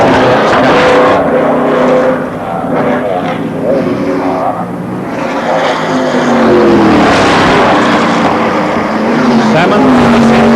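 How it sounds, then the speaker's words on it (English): A 1970 McLaren M8D race car with an 8-litre Chevrolet engine roars loudly and continuously, its pitch rising and falling as it races. A commentator talks over the engine throughout. "1970 McLaren M8D with an 8-litre Chevrolet engine"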